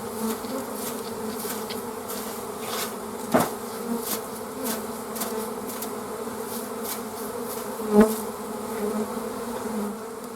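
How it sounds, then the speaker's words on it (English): Honey bees buzz in a steady, dense drone while being brushed off hive frames, with a couple of soft knocks standing out against the swarm's continuous hum. "You can also shake the number of bees off, get most of them off."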